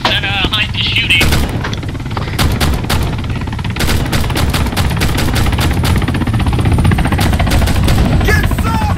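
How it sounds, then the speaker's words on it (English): Dense, rapid gunfire in the military video game ARMA 3 crackles nonstop at close range, with machine-gun bursts and single shots overlapping and no pauses. "Be advised, Daniels, that Hines is shooting"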